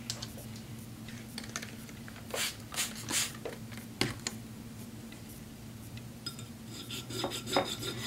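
A chipped blade of a pair of shears is sharpened on a 600 grit stone, giving intermittent scraping, rasping strokes close up over a steady low hum.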